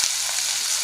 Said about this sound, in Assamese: আৰু গেছটো মই মিডিয়াম ফ্লেমত ৰাখিম আৰু 2 মিনিটমান ভাজি ল'ম